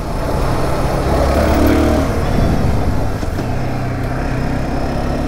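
A 2023 SYM NH-T 300 scooter rides over a broken road surface, its engine and road rumble loud and steady throughout with a brief dip partway through.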